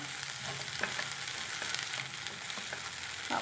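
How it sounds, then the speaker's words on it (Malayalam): Okra and potato fry with curry leaves being stirred in a pan, a continuous soft sizzle with faint scraping of the spoon, quiet and close, no voices. "കറിവേപ്പില ഇട്ട് കൊടുക്കാം നല്ലതുപോലെ മിക്സ് ചെയ്യാം"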